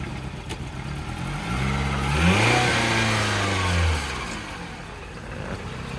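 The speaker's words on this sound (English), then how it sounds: "Has a key, started up with a jump, and moving it backward" A towed auction car, started with a jump, runs with its engine idling, then revs and climbs in pitch as it is moved backward and forward before settling back to idle.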